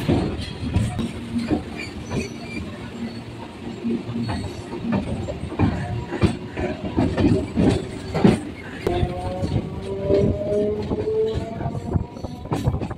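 A Kolkata local train pulls slowly out of Tala station, its wheels clattering in an uneven rhythm close by, with rising squealing tones from the wheels later on.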